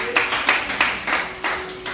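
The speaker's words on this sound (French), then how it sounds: "Acclamons le Seigneur." Church congregation clapping to acclaim the Lord, a loose series of sharp handclaps in an uneven rhythm, close and fairly loud, with a voice speaking underneath.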